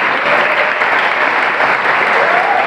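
Loud, close crowd clapping from an audience at a debate talk, a continuous dense patter of hands with a faint voice underneath.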